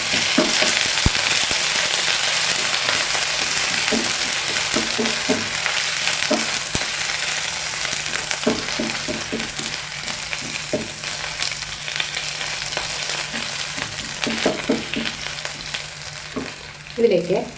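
Ginger and garlic fry in hot oil for egg biryani, a steady dense sizzle broken by intermittent clicks and scrapes of stirring, close and continuous with no talking.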